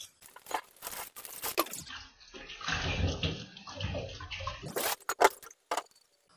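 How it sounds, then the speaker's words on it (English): Running water splashes and gushes as vegetables and fruits for a salad are rinsed under a tap, a steady close wash broken by bursts of louder flow and handling noise. "All you have to do is clean or wash and chop the vegetables and fruits."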